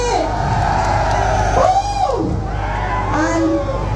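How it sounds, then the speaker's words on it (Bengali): A crowd at a live outdoor show cheers and whoops for a DJ, a loud, dense wash of shouting voices with rising and falling yells, heard continuously for a few seconds over background music. "তার জন্য একটা জোরে করতালি"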